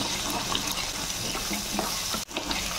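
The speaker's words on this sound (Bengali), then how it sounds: "3 মিনিটের মতো কষিয়ে নিলাম।" A spice paste with salt and Kashmiri chilli sizzles steadily in a pan while being sautéed for rui fish kalia. The close, continuous frying hiss breaks briefly near the end before resuming, with no talking.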